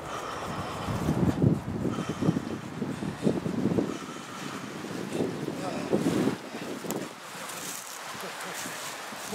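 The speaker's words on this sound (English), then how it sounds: "The wind is not helping us out" Outdoors in the Northeast during fire plow friction fire making, wind rumbles and buffets the microphone steadily, with people talking intermittently under the gusts.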